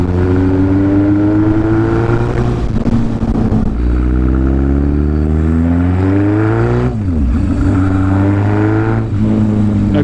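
A Yamaha XS1100 cafe racer with a big bore kit and performance head labors loudly uphill up close, its pitch rising and falling through gear changes as it chugs along under load, with no talking.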